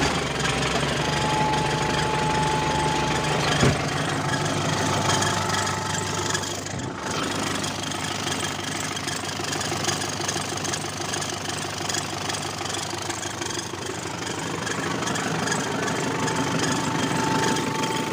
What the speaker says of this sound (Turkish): Evet arkadaşlar, traktörümüzü çalıştırıp deneyelim.